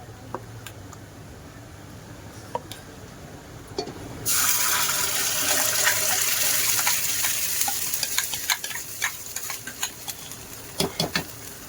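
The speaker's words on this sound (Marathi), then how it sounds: "आता आपण त्यात वाटण टाकून घेऊया." Ground spice paste for a mutton curry hits hot oil in a pan. After a few quiet seconds it bursts into a loud, continuous sizzle, with crackles and pops sputtering on to the end.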